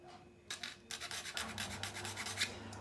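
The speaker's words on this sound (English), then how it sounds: "what I'm going to do there is just take off that burr a bit" A burr is filed off part of a wooden model car kit with a flat-edged tool, making short, quiet rasping strokes in quick succession, close up, after a brief pause.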